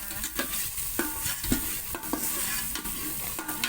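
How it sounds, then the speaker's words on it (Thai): Squid and holy basil stir-fried in a pot produce a continuous sizzle, with repeated metal scrapes and clacks of a spatula stirring at a brisk, uneven rhythm; no voices. "พอใส่เสร็จเราก็ผัดเลยค่ะ ผัดเลยนะคะ"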